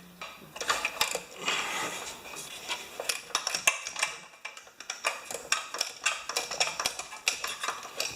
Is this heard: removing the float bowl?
yes